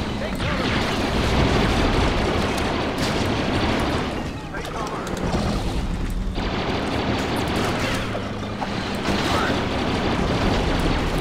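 Explosions and blaster fire in the video game Star Wars Battlefront (2004): loud, continuous battle noise with heavy booms and crackling shots, one brief dip partway through, then the roar returns at full strength.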